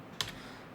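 A single brief keypress clatter on a computer keyboard, one sharp tap followed by a softer one, fairly close, over quiet room tone while searching in a software window.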